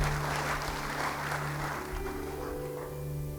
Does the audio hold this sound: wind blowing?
no